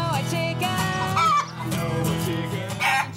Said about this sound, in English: So is that sound of a chicken?